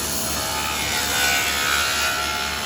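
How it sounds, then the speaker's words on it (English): A saw cuts wood for a picture frame with a steady, loud whirring and rasping hum that holds at a constant level up close. "let the saw do our dirty work"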